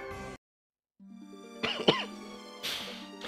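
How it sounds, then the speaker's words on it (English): A person with a lingering virus coughs several times, sharp hacking bursts near the microphone, separated by a brief silence and a steady electronic tone from a video game in the background. "I apologize if you do hear me coughing a little."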